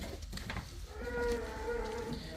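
Cattle at a Punjabi dairy farm with cows for sale: a near, drawn-out low moo rises midway and holds for over a second amid farmyard background noise.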